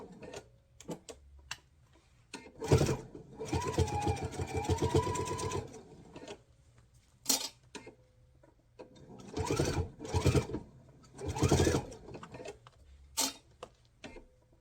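A sewing machine stitches a fabric box seam through bulky fusible fleece, running in several separate bursts of steady rapid whirring with quiet pauses between them, close and clear with no talking.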